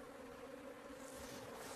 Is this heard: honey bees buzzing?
yes